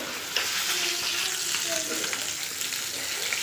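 Pieces of marinated rupchanda (pomfret) fish sizzling in oily pan as they are turned, a dense continuous crackle with occasional utensil scrapes and a faint splash of water in the background.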